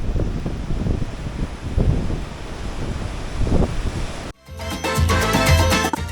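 A breeze blowing in from the north at a beach buffets the microphone with a steady, rushing roar of wind, which cuts off abruptly near the end into a different, tonal sound.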